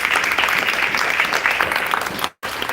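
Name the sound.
audience applause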